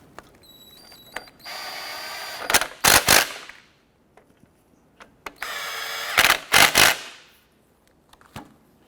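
A power ratchet snugs down the hub assembly bolts on a 2006-2013 Chevy Impala's right rear wheel bearing, firing two loud, whirring rattling bursts a few seconds apart with softer tool clicks between.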